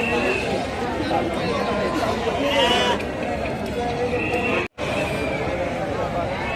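Sheep and goats bleat repeatedly at the Rajarampalli weekly livestock market. Their calls come near and far, mixed with steady crowd chatter, and someone talks over them throughout.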